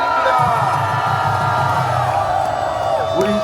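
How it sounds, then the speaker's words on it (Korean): A large outdoor crowd at an anti-impeachment rally in Gwanghwamun, Seoul, cheers and shouts in a steady, dense roar that holds loud and close for the whole stretch. "큰 박수"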